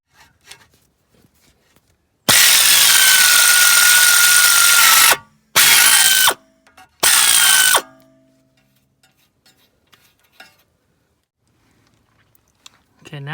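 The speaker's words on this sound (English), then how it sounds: "I'm just going to use an air tool." A pneumatic air tool spins off a 15 mm bolt during a driveshaft replacement on an R53 Mini Cooper S with a manual transmission, three loud close bursts, the first about three seconds long and the other two shorter.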